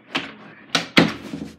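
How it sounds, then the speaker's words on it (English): A door is shut indoors, producing a few close knocks and clatters, the loudest thud near the middle, with no talking over it. "Okay, let me close the door."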